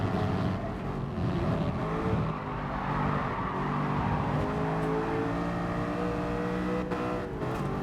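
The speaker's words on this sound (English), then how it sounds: "How fast that Porsche is." A Porsche race car in GT Sport holds a steady, droning engine note with shifting revs, loud and continuous, with no talk over it.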